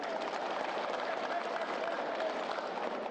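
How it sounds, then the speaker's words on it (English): Audience applause during a House of Representatives anniversary session, broad even clapping from a large chamber crowd, continuous and fairly loud with no pause. "I want you to give me a very good round of applause for keeping a united family"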